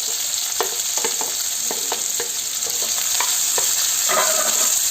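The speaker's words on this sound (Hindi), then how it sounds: "कनी देर मध्यम में आँच पर प्याज के हम सब भूज लेवे, झाँप के भूजबे।" Two medium-sized chopped onions fry over medium heat in a covered pan, giving a steady high sizzle with scattered scraping taps from stirring.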